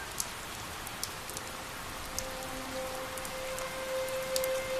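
Light rain falls steadily with a soft hiss and occasional sharp drips, while a faint steady tone hums in the background.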